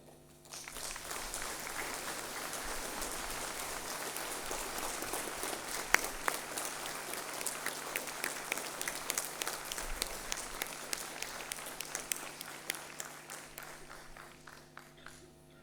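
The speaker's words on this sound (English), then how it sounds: "You may now applaud" Audience at a university graduation convocation applauding the degree recipients, a long, steady round of clapping from a large hall, with individual claps standing out as it thins toward the end.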